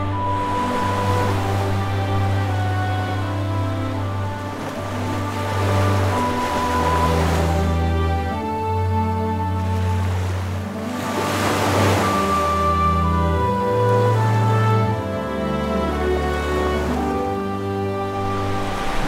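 Waves roll onto the empty Godivane beach near Ratnagiri on the Konkan coast, a steady surf wash that swells twice, heard alongside sustained musical tones.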